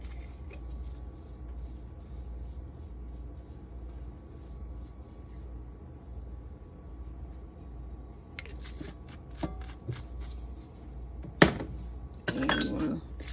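Maple glaze is stirred in a bowl, starting near silent, then light scraping, clinks and taps of a utensil against the bowl that sharpen toward the end, with no talk.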